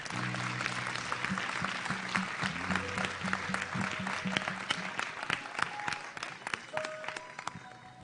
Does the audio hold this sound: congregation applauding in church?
yes